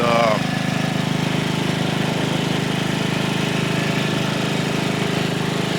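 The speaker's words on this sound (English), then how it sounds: "So what I'm gonna do is I'm gonna mow it. I'm gonna mow it real low" A lawn mower runs steadily nearby, its engine droning without a break as it cuts dead grass low across a customer's lawn.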